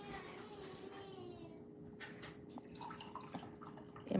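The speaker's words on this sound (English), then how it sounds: "let me pour this this tea so it can be out of the hot cauldron and then cooling down" Hot herbal tea is poured from a cooking pot into a coffee mug, making a light, continuous trickle with small drips and splashes over a low, steady hum, ending in a louder clatter.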